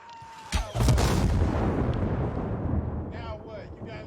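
Grenade blasts in the game Dying Light 2, a sharp boom followed by a heavy rumbling roar that slowly fades, with faint distorted noises near the end.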